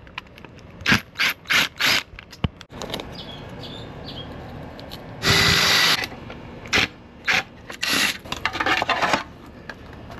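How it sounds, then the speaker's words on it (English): Screws being backed out of a TECKNET Level 2 portable EV charger, 32 amp 240V: repeated short bursts of ratcheting, scraping turns, with one longer grinding stretch midway, close and fairly loud, no talking. "I'm gonna take these screws off"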